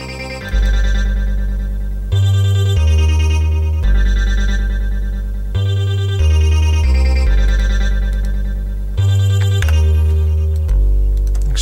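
A deep synthesizer bass pulses in a steady repeating pattern beneath ringing, echoing synth tones, loud and electronic with no voices.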